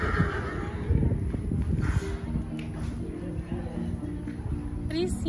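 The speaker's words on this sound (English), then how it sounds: "It's a lot of horses trotting." At a horse show, many horses move about nearby with scattered hoof clops, a whinny or two and general shuffling, while voices talk over the scene throughout.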